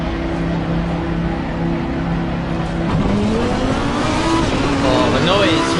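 A race car engine in the Assetto Corsa Competizione video game drones loud and steady, then revs and rises in pitch as it pulls away, with no voice over it.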